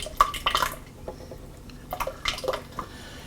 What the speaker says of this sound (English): I'm going to pour in half of the tomato juice that was left behind in that